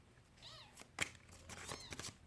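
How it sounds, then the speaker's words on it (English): A small kitten meows indoors, a couple of short, rising cries over a quiet room with faint knocks and rustles around them. "that's my little kitten right there"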